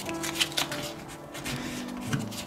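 Toilet paper roll paper being folded in half for origami, brief soft crinkling and papery rustles up close, quiet and without speech.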